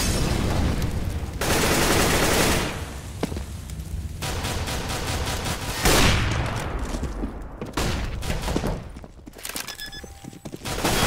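Rapid gunfire from a wall bang in a CS:GO match, loud bursts of shots that repeat in clusters with short pauses, close and dominant throughout.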